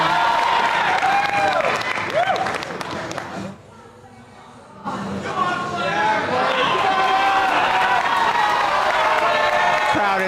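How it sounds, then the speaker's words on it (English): Crowd noise at an indoor climbing competition as a climber goes for the top, with loud cheering and applause over commentary-like voices, a short quieter dip midway before the roar swells again and holds. "Crowd is cheering on Claire for this top"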